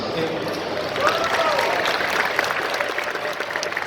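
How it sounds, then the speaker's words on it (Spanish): A fan-convention crowd applauds during an on-stage interview, a steady wash of clapping with a voice faintly over it. "un aplauso para Victoria también"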